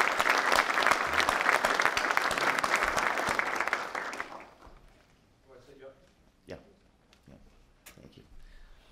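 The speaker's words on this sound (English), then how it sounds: "Let's give Richard Van Buskirk another round of applause," A round of applause from the audience at a regional summit on rail and transit integration, loud and sustained for about four seconds before tapering off into quiet room noise with a few faint thumps and murmurs.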